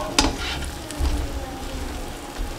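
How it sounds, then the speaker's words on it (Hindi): Butter melting in a pan over a high flame, giving a steady, close sizzle with a few brief clicks and scrapes. "मक्खन हमारा मेल्ट हो चुका है"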